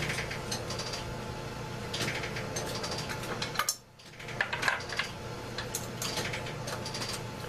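A trimmer cuts brass rifle cartridge cases during reloading case prep, giving a steady close metallic grinding and clicking with a brief pause midway, then resuming with scattered sharp ticks.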